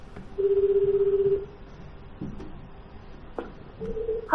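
A telephone ringback tone during a call placing a ticket reservation: one steady tone of about a second, a pause, then a second tone starting, with faint room noise between.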